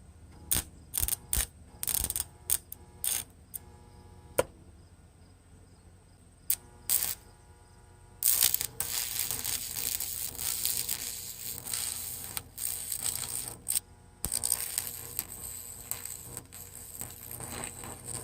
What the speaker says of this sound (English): let's try to strike an arc here and just tack this thing up